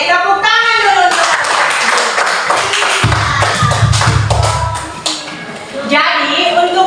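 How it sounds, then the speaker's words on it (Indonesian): Classroom applause from schoolchildren at the start of a lesson, a short burst of hand clapping mixed with shuffling and chatter. "Oke, tepuk tangan dulu untuk"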